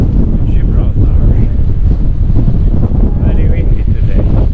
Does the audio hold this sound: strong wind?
yes